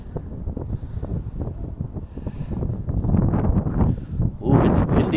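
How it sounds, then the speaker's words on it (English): Wind buffets the microphone in continuous low rumbling gusts on a late-night walk in Paris, growing louder toward the end, with no other clear sounds over it. "it's windy down here today"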